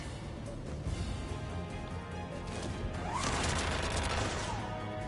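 Gunfire in the video game Mass Effect 3 striking a barrier, a steady dense rattle of shots and impacts that swells louder near the end, continuous and noisy over game background sound.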